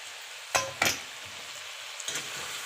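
Pork cooking in an iron wok gives two sharp bursts of sizzling close together, then settles into a faint, steady hiss.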